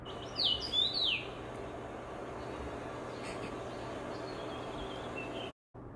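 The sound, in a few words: rose finch song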